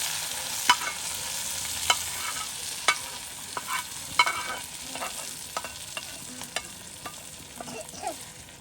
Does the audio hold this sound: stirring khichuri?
yes